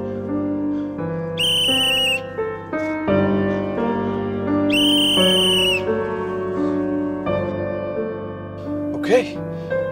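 A whistle blown in short bursts over sustained musical tones, two clear shrill blasts standing out loudly above the underlying music.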